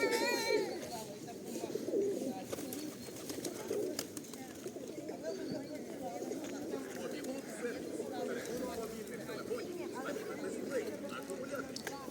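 Pigeons coo and murmur steadily in the foreground amid a busy outdoor background, with soft wing flutters and chatter throughout.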